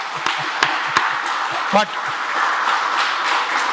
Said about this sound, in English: You can applaud if you want to, come on.